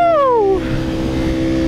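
A 2018 Ducati Panigale V4R engine revs hard and close, its pitch sweeping down sharply as the rider rolls off or shifts, then settling into a steady throbbing idle-like drone.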